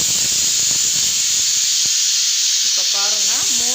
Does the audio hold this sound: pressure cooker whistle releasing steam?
yes